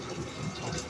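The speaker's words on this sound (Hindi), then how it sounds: "और ये हम निकाल रहे हैं साग का पानी।" Cooking water from boiled mustard greens for sarson ka saag being poured off into a bowl, a steady close liquid gush and splatter heard alone for about a second.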